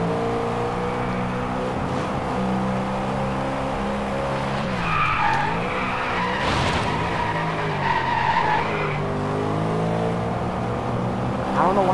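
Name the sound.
car drifting with spinning tires in DRIVECLUB video game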